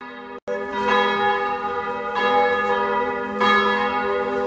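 Church bells ring loudly and close, a rich sustained peal with fresh strikes landing every second or so over the lingering hum, no voices.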